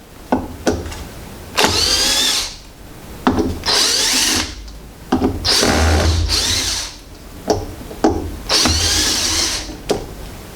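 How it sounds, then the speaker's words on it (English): A power drill backs out four screws from the motor controller housing of a Zip Series mobility buggy, four loud whirring runs of a few seconds each, each preceded by short clicks, close and unaccompanied by talk. "So I'll just start off with removing these 4 screws."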